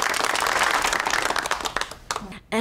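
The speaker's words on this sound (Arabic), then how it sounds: "إي صفقوا" Studio audience applauding on an Iraqi TV dating show, a dense steady wash of clapping for about two seconds that thins out before a voice cuts in at the end.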